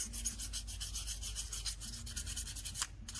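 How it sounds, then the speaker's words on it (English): Rubbing a piece of 1200 grit sandpaper over a wire-wrapped owl craft piece, a rapid regular back-and-forth scratching heard up close and soft, with a brief pause near the end. "I'm just gonna pull off a bit of sandpaper"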